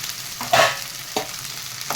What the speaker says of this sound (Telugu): ఒక 2 నిమిషాలు సిమ్లో పెట్టుకొని ఫ్రై చేసుకున్నామండి.